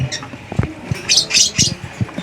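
An African lovebird being treated for splayed legs gives a series of short, high chirps at close range, bursts coming in quick irregular clusters amid soft shuffling and cage noises.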